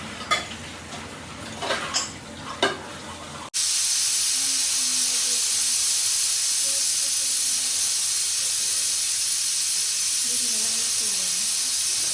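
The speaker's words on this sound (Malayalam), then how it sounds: "കുക്കറിൽ ഇതാ വിസിലും വന്നിട്ടുണ്ട് കേട്ടോ" A pressure cooker venting steam, a loud, sustained whistling hiss that starts abruptly and holds steadily for several seconds, following a few clinks of kitchen utensils and a voice speaking briefly under the hiss.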